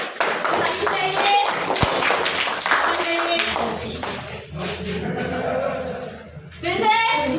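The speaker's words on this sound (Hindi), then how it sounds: "ताली बजाइए।" Hand clapping at a block-level Rangotsav competition in Narharpur, mixed with children's chanting voices and game play; the claps come as irregular taps under steady talk and singing.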